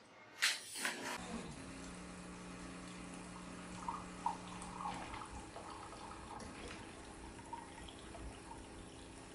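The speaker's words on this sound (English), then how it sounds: "Cleaning and rinsing. And do a complete rinse." A Wittenborg 9100 coffee machine runs a complete rinse cycle, water flowing and splashing steadily after a brief start-up burst, with a low mechanical hum and occasional gurgles, close and continuous.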